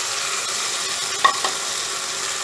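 Seasoned red lentil mix hits tempered hot oil for a Bengali musur dal, bursting into a loud, steady frying sizzle with one brief clattering knock midway, close up and without speech.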